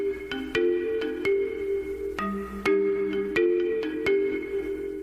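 Xylophone-like melodic tones play a repeating plinking tune, bright and clear, loud and alone with no talk.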